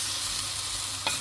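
Squid and green peas fry in a pan with a constant bright sizzle, and a single stirring scrape comes near the end as spices are mixed in; close, no talking.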